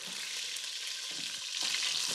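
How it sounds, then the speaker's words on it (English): Continuous crackling sizzle of livers and kidneys frying in hot oil with garlic, close and steady, with faint stirring clatter. "Just like Charo, I begin by frying off some garlic, then the livers and kidneys."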